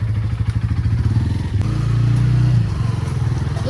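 A motorcycle engine idles and rumbles close by as the bike is wheeled out of a home courtyard, a steady low throb with a brief thump and a slight swell in revving midway.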